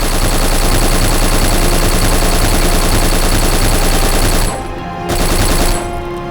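Loud, continuous automatic machine-gun fire from the shooter game Black, a relentless stream of rapid shots that cuts off abruptly near the end with a short final burst.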